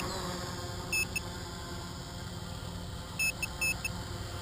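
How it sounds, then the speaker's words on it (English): A LiPo battery low-voltage alarm on a tricopter beeps in short, shrill bursts: one pair near the start and a few more later, cutting through a constant rotor buzz. "my LiPo alarm."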